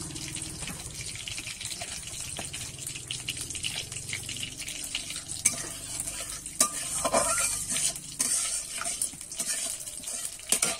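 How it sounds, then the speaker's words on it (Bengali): Cumin seeds fry in hot oil for a fish and cauliflower curry, giving a steady soft sizzle under repeated scraping stirs of a spatula against the pan. "ফোড়নটা আমি একটু ভালো করে নেড়ে চেড়ে ভেজে নেব।"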